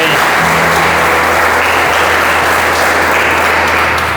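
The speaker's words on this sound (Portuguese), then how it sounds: "Nosso Deus merece uma salva de palmas, não merece?" A church congregation claps together in loud, dense applause during a worship service, steady and full for the whole stretch, with faint voices mixed in beneath.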